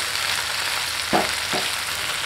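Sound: vallarai greens added to a pan and stirred

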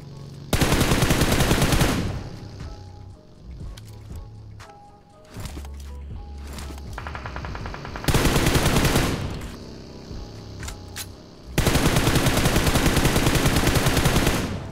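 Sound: SKS rifle gunfire in a mobile shooter video game

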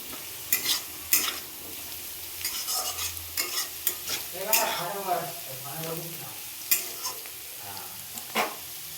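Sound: potatoes and onions frying in a pan

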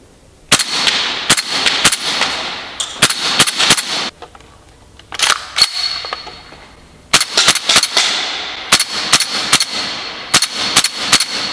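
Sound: airsoft gun firing, HPA-powered

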